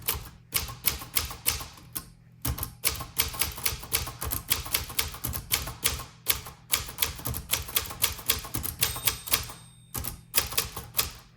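Rapid, steady typing on a 1984 UNIS TBM Deluxe manual typewriter, with dense sharp key strikes in quick bursts, brief pauses between runs and a few louder carriage or bell-like clacks, close and clear with no talking.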